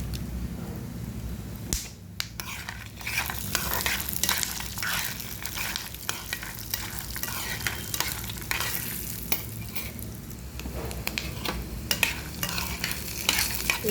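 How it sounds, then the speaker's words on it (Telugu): Peanuts, cashews and cumin seeds frying in a pan, with a continuous close sizzle and crackle broken by scraping stirs. "దీనిలో కొంచెం జీలకర్ర వేసుకోవాలి వేయించేటప్పుడే."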